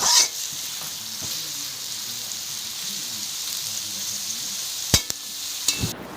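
Sliced onions with salt frying in a pot for Kolkata-style chicken dum biryani, a steady close sizzle broken by a few sharp utensil knocks near the end.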